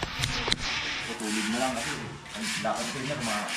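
Rhythmic rubbing and scraping of wet sandpaper on a door surface, repeated strokes at close range, with a voice talking underneath.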